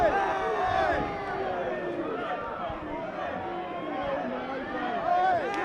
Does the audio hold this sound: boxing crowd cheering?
yes